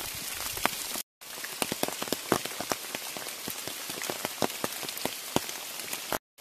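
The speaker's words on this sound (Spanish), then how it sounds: "No ha parado de llover desde que hemos llegado" Steady rain falls in a forest, a close, even patter of countless drops with sharper individual taps striking nearby surfaces, heard alone without voices and briefly cutting out.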